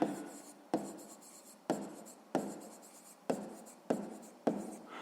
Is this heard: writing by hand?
yes